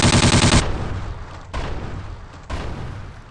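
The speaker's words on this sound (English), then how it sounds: "grab the Calico and just shoot this down onto him" Calico submachine gun fired in the video game Trespasser: a dense automatic burst in the first half-second, then two more sharp shots with ringing decay, loud and close with no talk.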